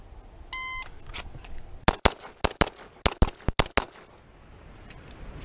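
Rapid string of about nine sharp, loud pistol shots from an FN FNX-45 in .45 during USPSA-style speed drills, fired in quick uneven bursts after a faint electronic timer beep.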